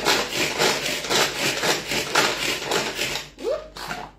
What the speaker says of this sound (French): On va se hacher notre chorizo.